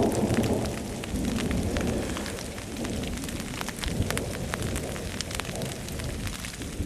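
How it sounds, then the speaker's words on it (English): Heavy rain pours down steadily in Bryce Canyon, a dense hiss with scattered louder drops pattering nearby throughout. "it's raining hard."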